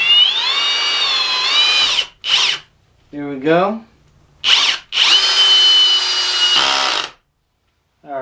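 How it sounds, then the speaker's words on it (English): Kobalt hammer drill driving a screw into wood, its motor whining in loud bursts of varying pitch with short pauses and a rising spin-up between, plus a brief spoken phrase. "I know the hammer drill will be able to drive it in since the regular drill driver did it"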